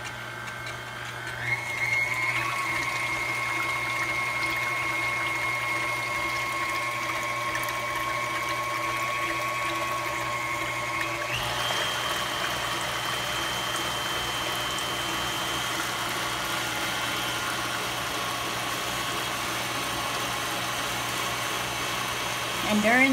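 Electric mixer whisking heavy whipping cream into homemade butter, a steady motor whine with a shift in pitch partway through as the speed changes, running continuously for over twenty seconds.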